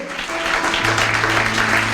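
A church congregation claps and cheers loudly, welcoming a bishop, a dense, continuous burst of applause filling the room with a low hum beneath it.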